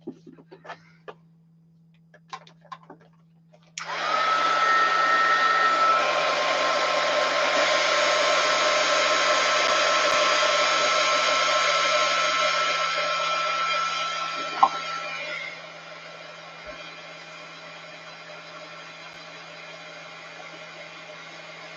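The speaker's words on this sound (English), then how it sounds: "And let's heat gun them." Heat gun drying thin painted paper: a few light taps, then the gun switches on with a loud, steady blowing whine that holds for about ten seconds before cutting off, leaving quiet room tone.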